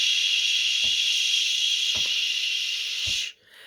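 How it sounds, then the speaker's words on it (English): A steam iron blasts steam onto fabric appliques in a long, loud, steady hiss lasting about three seconds, with a few soft thumps underneath before it cuts off. "So we're going to blast it with steam."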